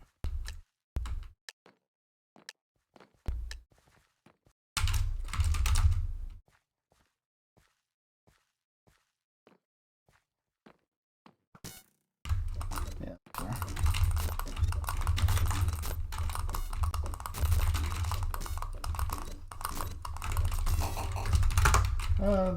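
Computer mouse clicking in short, sharp bursts during a Hypixel game session, the clicks starting sparse and isolated, then breaking into a dense, loud flurry of rapid clicks that continues to the end.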